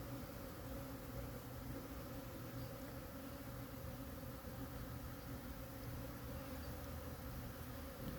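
Honeybees swarming around a hive on a mild 51-degree February day, a dense continuous buzz from many insects, steady and fairly close with no voices.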